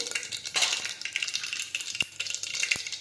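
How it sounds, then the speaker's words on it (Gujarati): Mustard seeds, cumin and asafoetida sizzle in hot oil in a pan, a steady crackling fry with scattered pops and brief stirring clinks, close and fairly soft, with no talking. "હવે આપણે તેમાં રાઈ અને જીરું નાખી દઈશું હિંગ નાખીશું"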